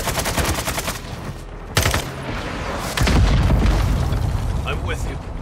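In Modern Warfare 2 gameplay, heavy booming blasts land over steady gunfire, with a sharp rocket explosion near two seconds and another big blast at three seconds. Each leaves a rumbling tail, and game voice callouts sound over the battle.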